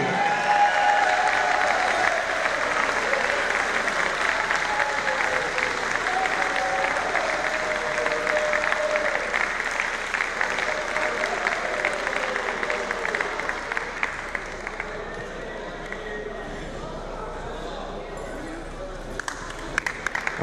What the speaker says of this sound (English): let's have a massive round of applause for both girls